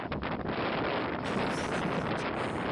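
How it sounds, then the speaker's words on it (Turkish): Strong wind buffeting a microphone, a loud continuous roar with gusty rumble and no voices. "Oğlum nasıl bir rüzgar lan?"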